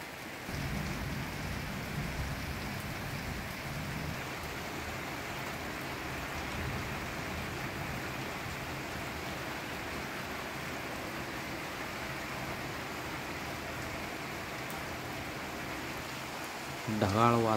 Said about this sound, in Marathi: पाऊस सध्याला सुरू आहे